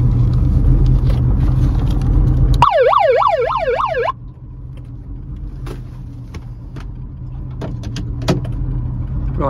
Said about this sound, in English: Where's my siren thing? Where's my siren gone?